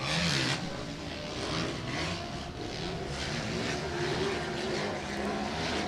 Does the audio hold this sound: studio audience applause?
no